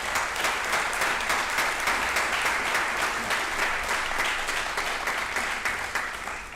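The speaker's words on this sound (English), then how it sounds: "I know that applause is maybe trying to send you away" Sustained applause from a crowd filling a board meeting room, dense and even throughout, fairly loud and close with no clear pauses.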